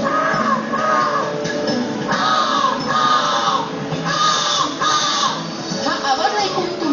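A man imitates the caw of a crow with his voice, a series of harsh repeated caws in short bursts, loud and close, with a crowd faintly audible behind.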